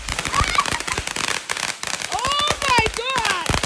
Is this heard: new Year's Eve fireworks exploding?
yes